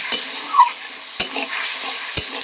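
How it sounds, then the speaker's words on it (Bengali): Fish curry masala fries steadily in a pan with a constant close sizzle, broken by three sharp scraping stirs spaced about a second apart. "এটাকে আমি একটু ভালো করে বেশ সুন্দর 5 মিনিটের মতন ভেজে নেব"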